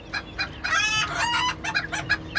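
A rooster crows and clucks in a rapid series of loud, close calls, with harmonic crowing bursts in the middle.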